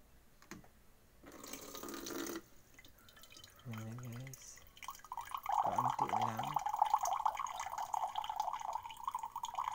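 Water pours into a glass, a steady trickling stream that grows louder over the last few seconds, with a person talking in the background.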